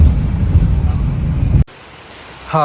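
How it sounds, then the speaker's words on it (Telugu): Dense, steady hiss of heavy rain in Goa pours loudly for over a second, then cuts abruptly to near quiet before a faint sound rises at the end. "నాన్ స్టాప్ వర్షం పడుతూనే ఉంది"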